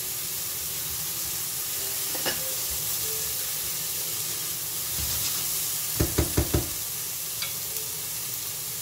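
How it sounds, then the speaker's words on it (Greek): Vegetables stir-frying over high heat in a hot pan for egg fried rice, a steady sizzling hiss with scraping stirs and a quick cluster of sharp clatters near the end. "Δουλεύουμε σε δυνατή φωτιά, θέλουμε να ακούμε το τηγάνι μας."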